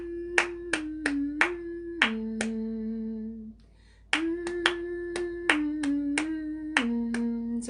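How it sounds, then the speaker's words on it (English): Sharp hand claps beat out the rhythm of a melody, irregular groups of claps falling on each syllable while a voice hums the tune underneath, with a brief pause midway before the pattern repeats. "So on each syllable I'm clapping."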